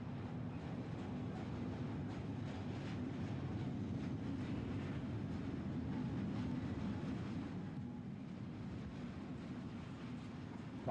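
A British Rail Class 6 locomotive hauls a Tuesdays and Fridays only steel freight train from Hamworth toward Cardiff Tidal, a low, sustained diesel rumble heard at moderate distance, steady and unbroken with no voices.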